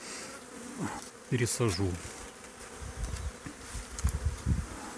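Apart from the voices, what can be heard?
honeybee swarm buzzing near hives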